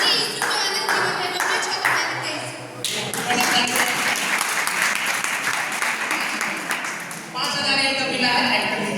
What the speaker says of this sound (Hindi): इनके लिए जोरदार ताली बजा दीजिए